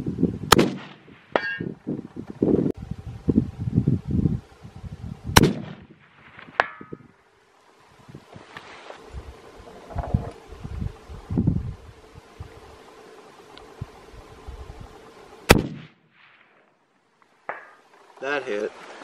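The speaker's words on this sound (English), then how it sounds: "So we're going to take it out for the first long range shots today." Shots from a Savage 110 High Country rifle in .300 Win Mag fired at long range outdoors, several sharp loud reports spaced seconds apart, with quiet talk and handling rustle between them.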